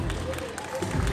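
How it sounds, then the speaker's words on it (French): Brief scattered applause for a YouTuber with a murmuring crowd, heard from a distance in a large room at a manga and gaming show in Fréjus. "le youtubeur qu'on appelle Mister Kylian, applaudissements pour lui."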